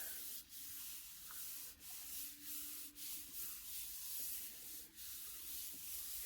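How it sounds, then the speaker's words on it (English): Paper rubbed firmly by hand over a stencil laid on an inked gel printing plate, a steady soft scratchy friction in repeated strokes with brief pauses between them, close and fairly quiet with no talking. "Give it a good rub. Keep it flat."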